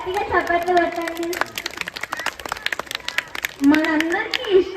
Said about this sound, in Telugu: శ్లోకం ఒకసారి అందరు గట్టిగా చప్పట్లు కొట్టండి.